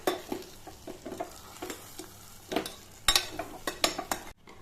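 Rice and egg mixture being stirred in a pressure cooker, with repeated scraping and clinking strokes of a spoon against the metal pot, irregular and moderately close, with no voices.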